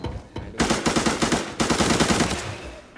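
An AR-57 rifle and other automatic weapons fire in Arena Breakout, loud and close, in rapid bursts of evenly spaced shots. A brief pause splits two strings of fire.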